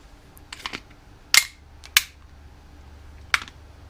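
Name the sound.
Umarex Smith & Wesson M&P 40 blowback BB pistol shooting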